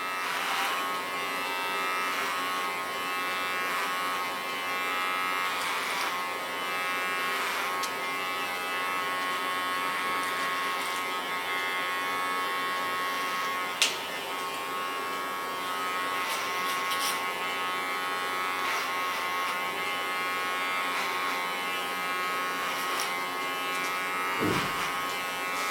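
An electric hair clipper buzzes steadily and close for the whole stretch while cutting through a woman's thick hair, its tone wavering slightly as the blade bogs down, with a few faint clicks and handling knocks and no talking.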